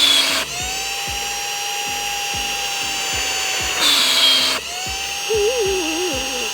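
A Flextail Max Pump 3 electric air pump runs steadily with a loud, high whine and a smooth motor hum, its pitch rising briefly near the end as it meets resistance.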